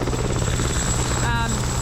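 A helicopter idles with rotors turning at a mountain landing spot on a glacier trip in New Zealand, a steady close, loud thrumming drone with a constant high whine on top.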